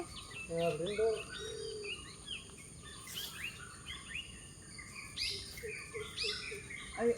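Birds chattering and chirping after rain on a farm, overlapping short tweets and a few louder nearby calls over a constant cricket and insect hum, with a faint voice briefly audible.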